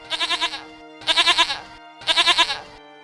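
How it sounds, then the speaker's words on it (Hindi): A goat bleats three times in a steady rhythm, each call a loud, close, wavering cry used as a story sound effect, with no talking. "अचानक मेरे मुंह से बकरे की आवाज आने लगी"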